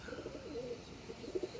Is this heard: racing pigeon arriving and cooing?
yes